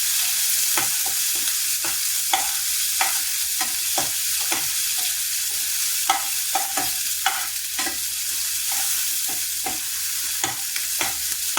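Small onions (shallots) frying in a pan with a steady close sizzle, broken by repeated scraping stirs of a spoon across the pan, with no voices.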